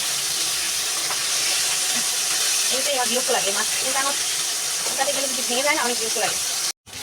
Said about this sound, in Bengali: এই তো মাছগুলো ভাজা হয়ে গেল তো মাছগুলো এখন নামিয়ে নিব